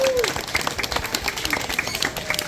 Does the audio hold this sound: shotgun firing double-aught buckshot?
no